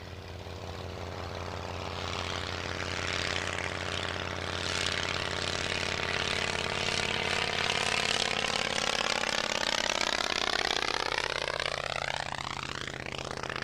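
A vintage Miles Southern Martlet propeller aircraft flies past at an air show, its engine droning steadily and loud, with a falling pitch sweep as it passes overhead and moves away.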